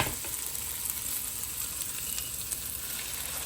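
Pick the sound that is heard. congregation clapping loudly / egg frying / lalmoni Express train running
egg frying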